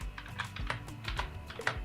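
Someone types a Google search on a computer keyboard: a quick, uneven run of soft clicking keystrokes, close but quiet, with no talking.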